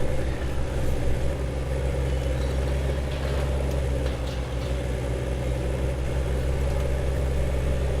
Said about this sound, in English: Wow, this tractor's got more power though.